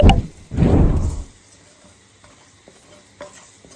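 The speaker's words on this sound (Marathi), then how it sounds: "हे मसाले ना छान असे परतून घ्यायचे" Spices sautéing on a low flame in a pan, with two short bursts of stirring and soft sizzling near the start, then a faint, quiet sizzle with occasional small ticks.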